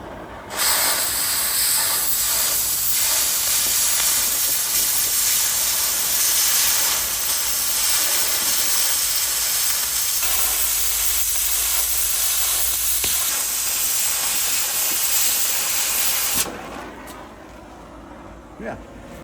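Power tool cutting cold rolled steel sheet while making a Christmas tree, a loud, steady hissing rip that runs continuously for about sixteen seconds, then cuts off to quieter background.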